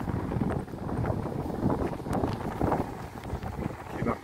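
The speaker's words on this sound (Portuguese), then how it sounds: "Tá ventando muito aqui nesse momento." Wind gusts blow hard across the microphone at a reservoir dam wall, a fairly quiet, uneven rushing that swells and dips throughout with no voices.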